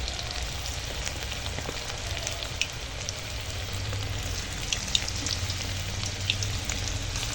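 Chicken and onion magic balls fry in hot oil with a steady, dense sizzle and faint crackles that hold evenly throughout, close up and alone without any voices.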